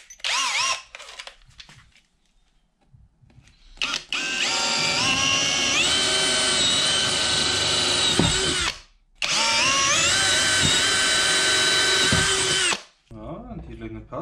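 Power drill boring pilot holes with a 5 mm bit for M4 screws on drawer handles in a home workshop, loud whining bursts of several seconds each, with a short pause between two runs and brief talk before.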